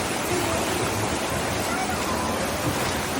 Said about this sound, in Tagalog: tuloy-tuloy pa rin po yung buhos ng ulan